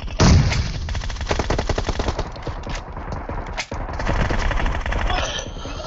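Rapid automatic gunfire from an MK gun in the mobile shooter PUBG Mobile, steady loud bursts of repeating shots filling the whole stretch with a brief break partway through, no talking.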